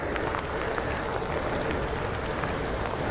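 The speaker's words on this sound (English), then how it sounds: "It's like a little hail right now." Light hail falls during a snowy day bike ride outdoors, a dense steady patter and hiss of small pellets striking surfaces throughout, fairly loud and without talk.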